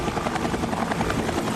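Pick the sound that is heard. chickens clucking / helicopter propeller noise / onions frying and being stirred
helicopter propeller noise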